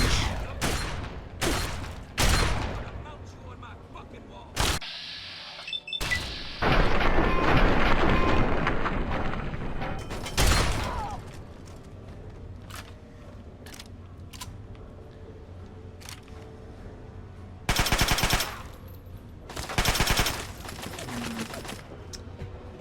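Repeated shotgun blasts from a combat shotgun in Fallout 3, loud broadband bursts in irregular clusters, some rapid pairs, separated by quieter stretches of game ambience.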